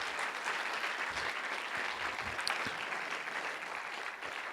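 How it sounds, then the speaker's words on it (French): Audience applause at a film festival closing ceremony: a continuous, even wash of many hands clapping, fairly faint and distant throughout, with no voices over it. "On les applaudit s'il vous plaît."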